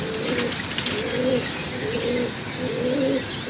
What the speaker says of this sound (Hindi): ये दूसरा कबूतर है, ये हमारा लाल चीना कबूतर